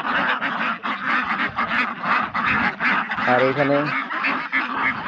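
Large Pekin ducks of the heavy Beijing breed on a riverside farm, a loud crowd of overlapping quacks and honking calls close by, with a person briefly talking among them.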